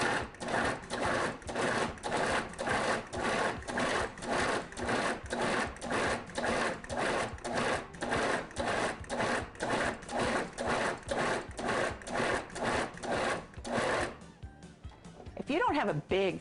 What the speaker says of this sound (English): I've cubed 3 pounds of London broil and put it in my food processor.